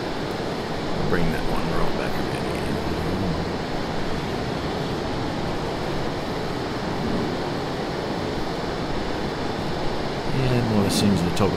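Steady broadband roar of an F/A-18 jet flying low over the Colorado Rockies, continuous and even throughout, with a person talking over it.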